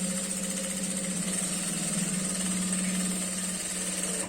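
A sewing machine stitching along a girl's skirt hem, running as a continuous steady mechanical hum and whir for several seconds without pause, close and fairly loud, with no talking.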